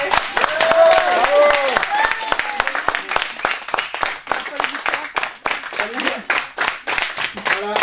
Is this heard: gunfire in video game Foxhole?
no